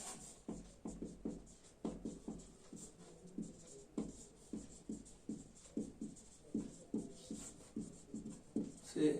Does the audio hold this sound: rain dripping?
no